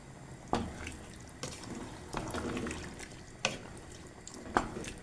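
Water splashes into a cooking pot in several short, bright pours separated by quieter gaps, close by, while beans cook.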